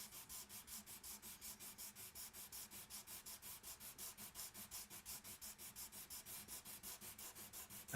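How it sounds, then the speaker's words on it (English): Steady back-and-forth rasping of sandpaper on a wooden Takamine guitar, close and even, a regular stroke roughly every quarter second throughout. "We're just sanding a guitar right now."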